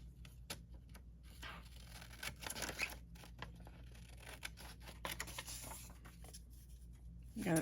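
A pair of old scissors trims the edges off paper in a run of quick, uneven snips and rustles, close and soft, with some paper handling between cuts.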